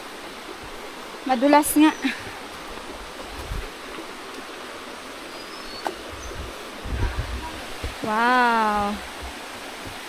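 Banog Falls in Narra, Palawan, its water flowing with a soft, steady rush in the background while people talk and exclaim nearby.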